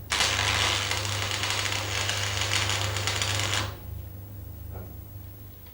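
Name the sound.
arc welding a tack weld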